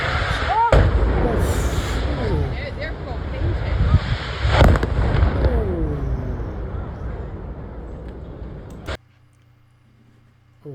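Massive house explosion in Wayne County, Pennsylvania, from news footage: a broad, loud rumbling blast with sharp cracks and rolling debris noise lasting several seconds, then cutting abruptly to near silence, with a short burst at the very end.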